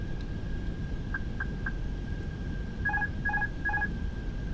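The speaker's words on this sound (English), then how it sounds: "That's such a delayed autopilot sound right there, bro." In Microsoft Flight Simulator, the Fenix A320's autopilot alert gives a few short, faint electronic tones, then a louder run of three paired beeps, over a low steady cockpit rumble.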